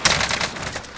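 An AK-47 fires one short, loud, rapid burst in the video game Warzone, a tight rattle of close shots filling a single second.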